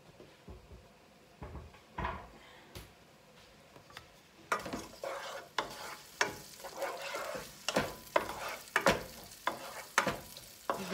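An onion fries in a pan for chicken-feet adobo, with soft sizzling under repeated clinks and scrapes of stirring that grow busier halfway through, close by and without talk.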